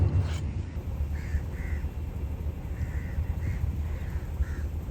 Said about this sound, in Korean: 까마귀 너무 많아요